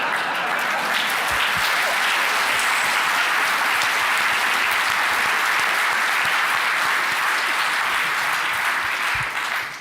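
Sustained, loud applause from a live audience at a science comedy event in London, dense clapping holding steady for about ten seconds before tapering at the end.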